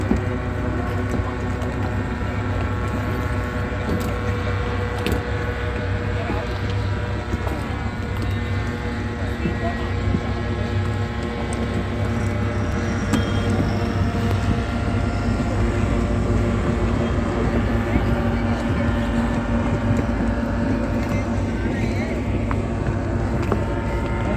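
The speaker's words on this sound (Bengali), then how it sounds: "আকাশে যেটা উঠছে আর শব্দ শুনতে পাচ্ছেন ওটা হচ্ছে মোটর প্যারাগ্লাইডিং" Motor paraglider flying overhead near Tehri Lake in the Garhwal Himalaya foothills, a steady continuous engine drone that holds at an even level, with talk over it.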